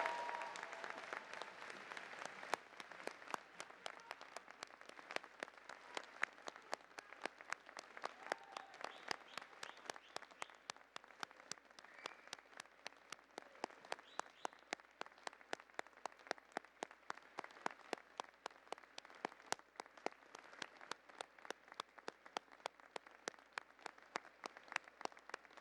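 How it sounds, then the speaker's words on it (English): A graduation convocation audience applauds at a spring 2013 ceremony, producing a long, sustained wash of many hands clapping that stays fairly even and moderately distant for the full stretch. "give a huge round of applause to all the people who supported you throughout"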